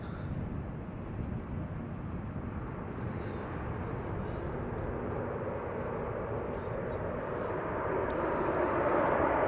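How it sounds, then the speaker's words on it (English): A Saudia Boeing 787-10 arriving from Jeddah at Schiphol Airport produces a broad, distant jet roar that slowly swells louder toward the end, with some wind rumble mixed in. "787-10 arriving from Jeddah."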